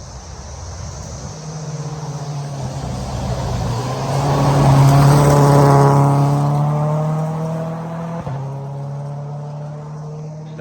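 A race car at a racing event drives around the track, its engine droning steadily as it approaches, grows louder at mid-clip, then fades slightly as it moves on.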